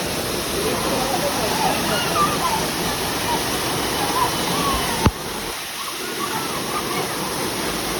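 Strong rushing water at Malshej Ghat roars in a loud, dense, continuous wash close by, steady throughout with a brief knock near the end.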